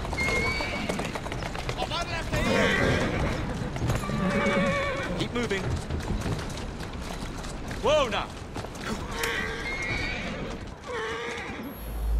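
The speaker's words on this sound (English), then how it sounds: "Who's a good horse? You are. Doing fine, girl. Easy does it." A horse in Assassin's Creed Syndicate whinnies several times over clopping hooves and carriage noise, close and fairly loud, while a voice speaks soothingly to it.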